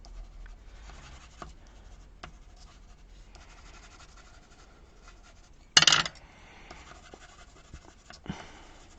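Paper leaves for a child's bedroom scrapbook frame are being coloured, giving soft, continuous scratchy rubbing strokes close by, with one sharper clattering knock near the end and no talking.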